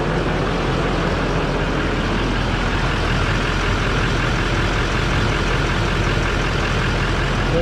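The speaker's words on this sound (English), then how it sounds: "Now you're going to want to let this idle for 5 to 10 minutes just to make sure that the system is cleared out" A 2014–2019 Chevy 2500 HD with the Duramax 6.6 diesel idles steadily after a fuel filter replacement, a loud continuous rumble with no talk.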